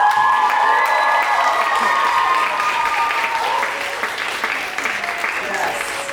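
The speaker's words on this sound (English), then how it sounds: "I would like for you to give one more big round of applause" A school audience at a senior literary arts reading applauds steadily and loudly throughout, the dense clapping tapering slightly toward the end, with some cheering and voices mixed into the crowd noise.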